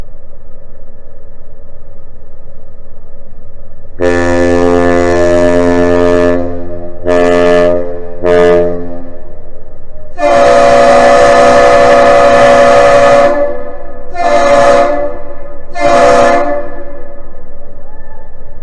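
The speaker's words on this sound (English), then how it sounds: "That one long and two short whistle exchange that you just heard between the John D Leitch and answered by the aerial lift bridge" Great Lakes freighter John D Leitch, heavy with iron ore pellets leaving Duluth, sounds a loud one-long, two-short whistle signal, answered by the aerial lift bridge's horn with its own long and two short blasts, deep harmonic tones alone.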